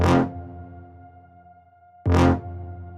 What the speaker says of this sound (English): I just used like horns to do that